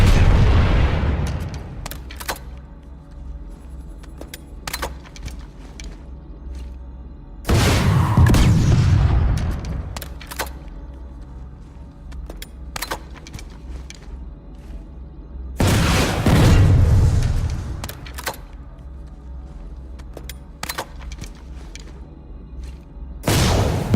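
Rocket launcher blasts hitting an enemy vehicle in the PlanetSide 2 shooter game, three loud booming explosions spaced several seconds apart over a steady background of gunfire and battle rumble.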